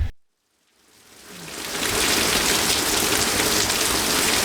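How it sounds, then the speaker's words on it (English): Steady, dense rain falls outside near a mobile home under rebuild, swelling from quiet into a constant broadband hiss that holds loud and even to the end. "I want to get working on the roof, but it's raining"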